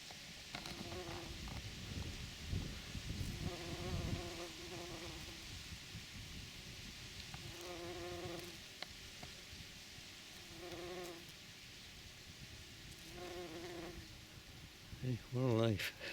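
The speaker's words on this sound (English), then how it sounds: "It's lovely sound they make. This one's carrying great big pollen baskets." Bees collecting pollen in a July garden buzz in repeated humming bursts as they fly close past and then away, with one loud buzz near the end and quiet outdoor ambience between.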